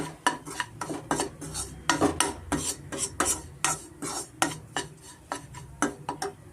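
Medium semolina roasting in ghee in a pan, stirred steadily with a metal spoon, giving a run of close scraping and clinking strokes at an even rhythm with no talk.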